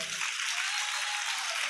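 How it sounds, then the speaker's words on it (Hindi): An audience clapping at a live religious discourse, a dense continuous wash of applause, fairly faint and steady throughout. "लोहर गांव की ताली में इतनी दम है कि इतनी धुनी निकल पड़ी है"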